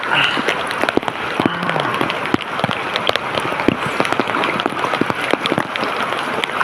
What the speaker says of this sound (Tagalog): patuloy pa rin lumalakas yung ulan at baha